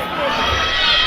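A crowd at an MMA fight night reacts with a brief, loud swell of mixed shouting and cheering that fills the arena.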